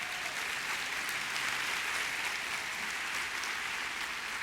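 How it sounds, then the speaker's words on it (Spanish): A church congregation claps loudly and steadily throughout, a dense continuous wash of applause with no gaps and no voices rising above it. "Dale un fuerte aplauso al Señor Jesús."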